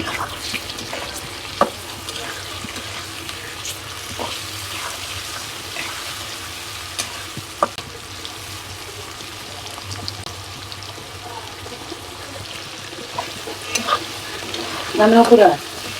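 Steady frying sizzle from a pan of fish and onions throughout, with occasional stirring clinks and a brief louder scrape near the end.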